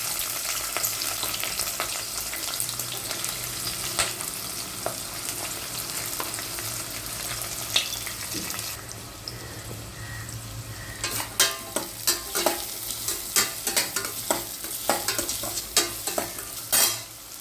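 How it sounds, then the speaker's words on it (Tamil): Green chilli and onion fry in a hot pan with a steady bright sizzle, joined later by a run of sharp scraping clicks as they are stirred, close up with no voices. "அடுத்ததாக பச்சை மிளகாய் அடுத்ததாக வெங்காயம் போட்டுக்கணும்"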